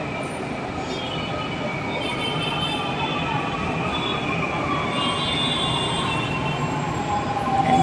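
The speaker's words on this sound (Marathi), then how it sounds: "बघा येते मेट्रो." A metro train pulling into a station platform, a loud continuous rumble of wheels on rails with a rising squeal and hiss as it draws near, with faint voices in the background.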